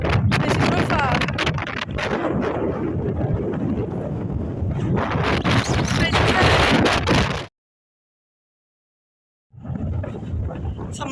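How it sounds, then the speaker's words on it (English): Strong wind buffets the microphone on a cold hilltop summit in December, a loud rumbling roar in gusts that drops out briefly before returning. "So it's colder and windier up here."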